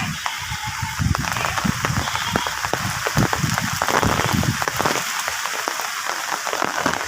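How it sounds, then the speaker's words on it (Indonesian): Heavy rain pours in a rural village with wind, a dense, continuous hiss and patter of drops on surfaces, loud and steady throughout. "ini tiba-tiba hujan deras loh ya."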